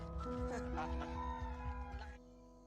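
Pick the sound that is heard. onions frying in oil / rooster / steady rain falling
rooster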